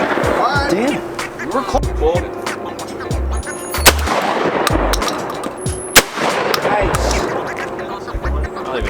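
A Benelli Super Black Eagle 2 shotgun fires at sporting clays outdoors, with several sharp, loud blasts spread irregularly, under men's chatter and wind noise.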